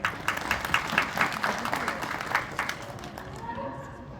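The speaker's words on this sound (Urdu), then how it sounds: "آپ ایک دفعہ اپنے لیے تالیاں بجا لیں." A seated audience at a talk applauds, a dense patter of hand claps at moderate distance that holds steady and then fades out over about three seconds.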